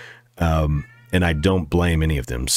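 A house cat lets out meows that blend into someone talking close to the microphone, the animal cries partly masked by his voice.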